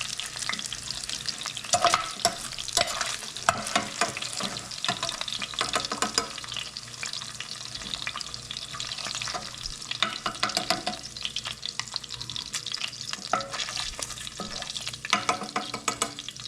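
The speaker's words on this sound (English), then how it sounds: "We're going to take them out of the pan with a slotted spoon." Pork pieces fry with a steady, dense sizzle in hot oil in a pan, with scraping and clinking as a slotted spoon lifts them out; loud and close throughout, no talking.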